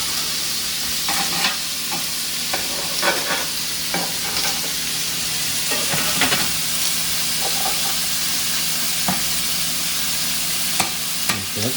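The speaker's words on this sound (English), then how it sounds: "So I'm trying to move them around on the pan so that they cook at the same" Food sizzles and fries in a hot pan with a constant loud hiss while pieces are pushed around, adding irregular scraping taps throughout.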